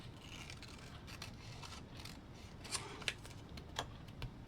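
Scissors snipping through a piece of paper while trimming around a collar shape: quiet rustling handling noise with a few crisp, separate cuts scattered through, close and faint, with no talking.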